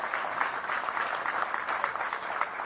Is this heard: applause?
yes